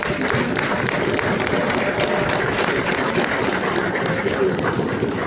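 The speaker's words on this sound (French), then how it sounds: "applaudissons-les." An audience at an Ingabire Day speech event in Brussels claps in a loud, dense, continuous wave of applause that holds steady for the whole stretch.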